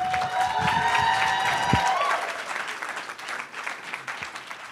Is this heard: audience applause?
yes